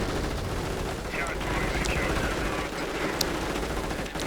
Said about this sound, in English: Assault rifles blazing, but they're not quite effective.